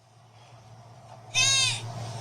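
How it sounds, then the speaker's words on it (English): A goat bleats once, a short, loud, quavering cry rising sharply out of a quiet night background, then trailing off into faint ambient noise. "That's a goat."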